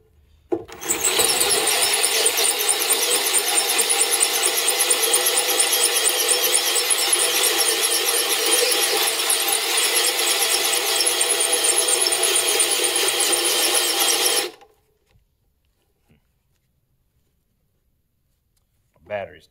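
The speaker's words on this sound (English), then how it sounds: "my drill's not loving it" A cordless drill straining under load while fitting a winch to a trailer, a steady harsh grinding whine running loud and unbroken for about fourteen seconds before cutting off abruptly into near silence.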